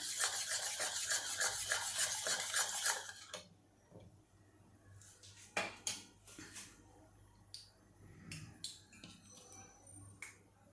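A mixture being whisked in a bowl for fasting kachori, a fast, steady scraping rhythm for about three seconds, then quieter scattered clinks and taps, close and fairly soft.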